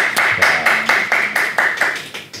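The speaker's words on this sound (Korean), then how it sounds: "저자님께 박수 한번 보내주십시오" A small audience at a book talk show clapping for an author in a loose, steady rhythm, several distinct claps per second, fairly close and loud, with no talking.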